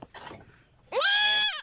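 A small goat on a livestock farm gives one loud, drawn-out bleat close by, after a quieter stretch of low rustling.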